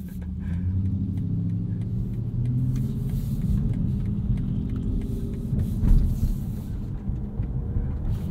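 2022 BMW i4 M50 electric sedan driving, a steady low road rumble with a faint whirring drone that rises slightly in the middle, heard from inside the cabin with no one talking.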